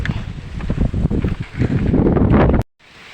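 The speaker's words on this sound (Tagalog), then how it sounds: "Mahangin po dito." Loud gusty wind on a farm buffeting the microphone in strong rumbling bursts, cutting out abruptly near the end.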